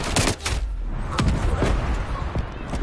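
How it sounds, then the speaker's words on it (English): Artillery fire in Call of Duty Black Ops Cold War, a dense run of booming impacts and gunfire cracks that rattle on without pause across a loud, continuous battle din. "Incoming artillery."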